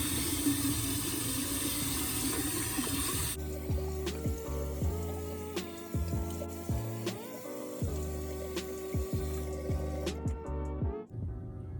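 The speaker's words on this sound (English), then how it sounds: "Now, as I'm rinsing this off, I'm still going in and like scrubbing out the granules that are inside of the mask." Running water from a bathroom sink tap rinses off a granular face mask, a steady rushing splash for a few seconds before giving way to quieter, tonal background sounds, and no one speaks.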